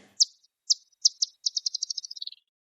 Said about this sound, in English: Those chirps you heard are the sound of a bat detecting and homing in on some prey.